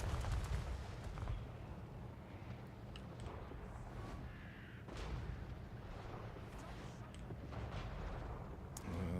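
Cannon fire in Total War: Warhammer 3, a steady rumbling battle bed punctuated by several dull booming shots spread across the stretch, with no talking over it.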